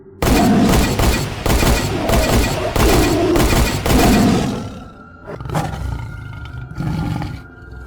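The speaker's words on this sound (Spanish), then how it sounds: "Los 3 hombres cargaron sus rifles y comenzaron a disparar mientras el tigre volaba por el aire hacia el oficial Trash." A tiger roars loudly and repeatedly as it attacks while three men fire rifles, the roars and a rapid volley of shots dominating up close, then giving way to a few scattered, quieter reports.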